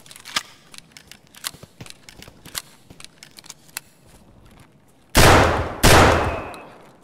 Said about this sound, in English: I just had to shoot this PMC like 8 times with AP-20 slugs